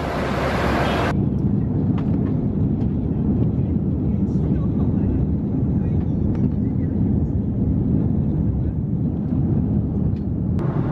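An airplane's steady, loud engine roar heard from inside the cabin fills the whole stretch, a constant low rumble with faint clicks and movement noises on top.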